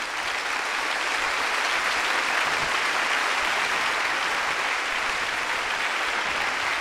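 Audience applause at a Christian comedy show by Mike Warnke, a dense, steady wash of clapping that fills the whole stretch without a break, with no talk over it.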